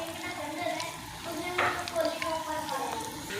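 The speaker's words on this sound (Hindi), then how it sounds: "ये देखिए फ्राई करने के लिए रख दिए हमने" Chicken bread rolls fry in hot oil with a steady, close crackling sizzle and brief louder bursts of bubbling as they are turned with a spoon.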